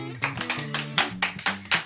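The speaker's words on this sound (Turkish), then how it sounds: "Alkış." Applause at a child's birthday celebration, a short run of sharp, close hand claps in an uneven rhythm over a faint tonal background.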